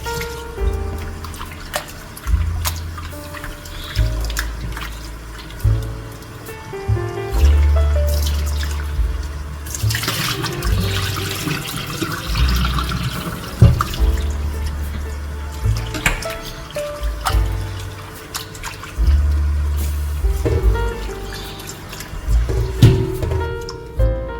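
Raw chicken pieces being rinsed in a sink, with running tap water splashing and trickling over the meat and occasional drips and clatter, continuous at close range, partly masked by background music.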